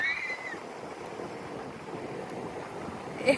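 Soft wind rushes steadily past the microphone, a quiet breathy wash with a brief high whistle at the start and a gust near the end.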